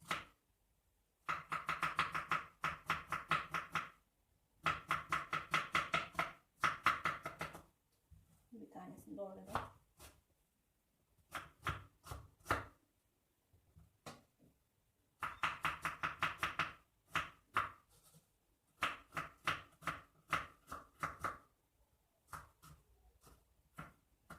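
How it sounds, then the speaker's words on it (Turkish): Rapid, steady knife chopping of onions finely on a cutting board, fast rhythmic taps in long runs with short pauses between bursts. "Şimdi onları hemen doğrayıp tavama alıyorum. İnce ince doğruyorum."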